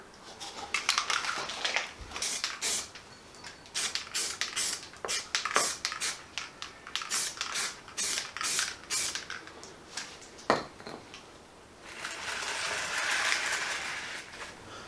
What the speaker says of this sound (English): So here we go with some etch primer, like so.